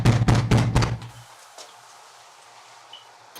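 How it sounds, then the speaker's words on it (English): Police officers pound loudly on a house's front door on a cool morning, a rapid series of about five heavy knocks, then quiet room tone with a faint thump afterward. "they approach the front door and knock"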